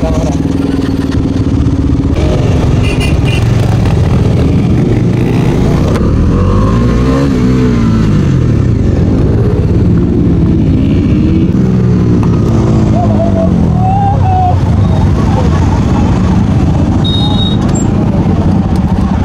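A Bajaj Dominar 250 motorcycle engine drones loud and continuous while the bike is ridden, with rising and falling revs through gear changes and a voice talking over the engine noise.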